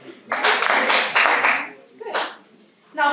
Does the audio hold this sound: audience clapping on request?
yes